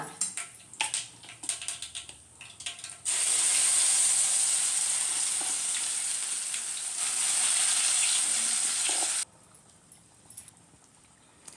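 Ground raw mango masala paste dropped into hot tempering oil with mustard seeds and asafoetida, a sudden loud hissing sizzle that holds for several seconds and then cuts off, with quieter kitchen clatter before and after.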